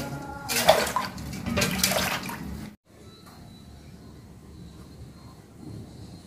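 Sponge gourds rinsed under running water, a loud broad splashing rush for nearly three seconds that stops abruptly, leaving a quieter low background.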